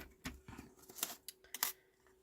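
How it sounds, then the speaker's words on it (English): Scissors cut a strip of cardstock for card making, a quick run of faint, close snips and crisp paper slices over about two seconds, with no talking. "let me cut a strip of this then."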